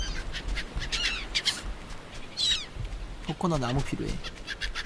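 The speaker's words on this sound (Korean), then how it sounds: "뭐야 갈매기들이다" Seagulls in the survival game Stranded Deep give several harsh, squawking cries spread over a few seconds, with someone talking over and between the calls.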